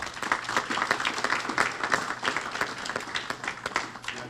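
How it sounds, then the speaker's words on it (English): Restaurant staff applauding at an award presentation, a lively round of many hands clapping together, sustained and fairly close for a few seconds with no talk over it. "I think that you should all give yourselves a round of applause"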